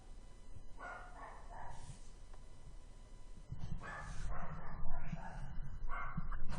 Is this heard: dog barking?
yes